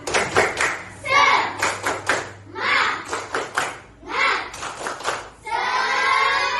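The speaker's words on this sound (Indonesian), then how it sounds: "Nah, tepuk semangat." Schoolchildren in a classroom perform a rhythmic spirit clap, bursts of patterned claps alternating with short chanted children's voices, then a sustained stretch of clapping at the end.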